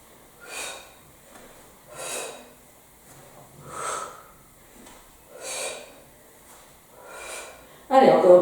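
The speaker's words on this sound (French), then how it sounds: "Soufflez bien." Forceful exhalations during an intermediate Pilates workout for the waist, abs and glutes: five or six breathy puffs at a steady rhythm about every one and a half seconds, close and fairly loud, followed by a short burst of sound at the end.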